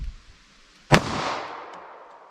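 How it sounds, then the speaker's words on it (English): A single sharp .45 ACP pistol shot firing Fiocchi Defense ammunition, loud and close, followed by a ringing decay that fades over about a second; no speech. "let's hit that with our 45 ACP"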